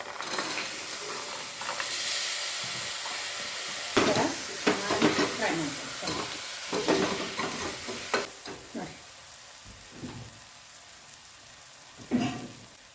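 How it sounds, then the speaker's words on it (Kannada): Sprouted beans and chickpeas for misal pav are tipped into a hot pan and fried. A steady sizzle carries a burst of rattling and scraping as the beans go in and are stirred, then quieter stirring with occasional scrapes. "ಮೊಳಕೆ ಬಂದಿರೋ ಮೊಳಕೆ ಕಾಳು ಮತ್ತು ಕಡಲೆ ಕಾಳು ಇವೆರಡನ್ನೂ ಸೇರಿಸ್ತಾ ಇದ್ದೀನಿ"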